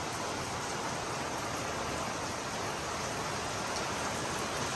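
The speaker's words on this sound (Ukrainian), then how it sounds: "Пройшов уже, закінчується дощик." Steady rain falls in a rural village setting with a dense, even hiss of drops on surfaces and no breaks in the sound.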